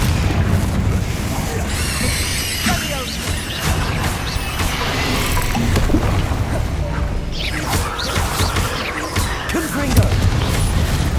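A fiery Confringo blast spell cast in the game Hogwarts Legacy: booming, crashing impacts with bursts and pops amid a loud, busy combat mix, with a voice talking throughout.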